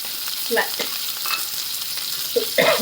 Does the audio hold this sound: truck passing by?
no